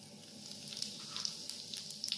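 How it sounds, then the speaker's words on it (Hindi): Cumin seeds sizzle in hot oil in a pan for a curry, a steady soft frying hiss with small crackling pops scattered throughout, quiet and close. "तेल गरम हो जीरा पकईदे"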